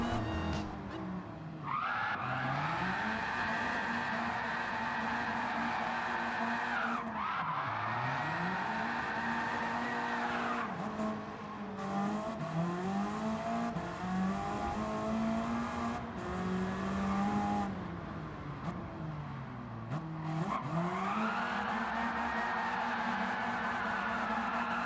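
A light, short-wheelbase car of about 2,100 pounds laps a track in Gran Turismo 7, its engine revving up and dropping through repeated gear shifts, with tires squealing through the corners, loud and continuous throughout.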